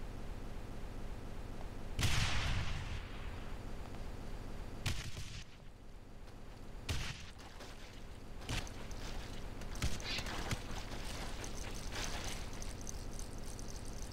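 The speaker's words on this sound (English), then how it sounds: "the game literally broke on me because of all the cyber demons and explosions." Explosions and cyberdemons battle in DOOM II, with several heavy booms and rocket blasts at irregular intervals over a constant low game rumble, mid-distance and moderately loud.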